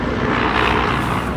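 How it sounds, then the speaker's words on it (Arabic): A loud, continuous engine roar of a helicopter flying close by, steady and dense throughout with no pauses or voices. "هليكوبتر"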